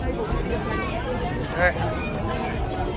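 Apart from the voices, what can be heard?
crowd chatter at a busy cruise ship pantry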